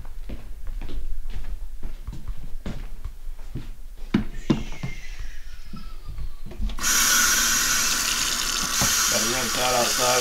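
Footsteps and scattered knocks lead into cold water running from an outdoor tap over a tie-dye tee, a loud steady splashing rush that takes over for the last few seconds.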